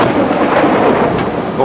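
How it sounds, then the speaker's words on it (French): A thunderstorm rumbles over a steady roar of heavy rain, loud and close, a continuous wash of downpour with thunder rolling through it. "il pleut comme vache qui pisse"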